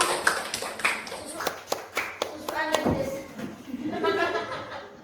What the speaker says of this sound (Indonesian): Tepuk tangan untuk Pak Wahyu yang berhasil membujuk Pak Ino.